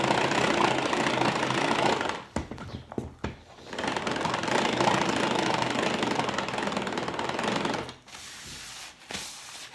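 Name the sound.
electric mixer running at speed 1 emulsifying sauce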